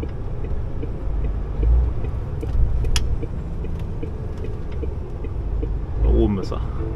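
A MAN TG3 18.580 truck driving toward a truck stop, its engine giving a steady low rumble throughout with small ticks and clicks from the cab, and someone talking over it.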